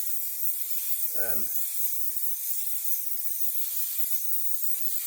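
Aerosol spray paint hissing from a can onto the roof of a Citroen C4 Grand Picasso, a steady close hiss running the whole time, with one brief vocal sound near the start.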